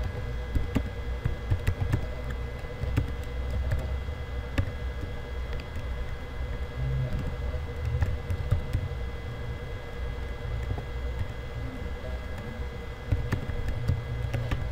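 Typing on a computer keyboard while editing a Facebook profile's about section, a steady stream of soft, close key clicks over a constant background hiss, with no talking.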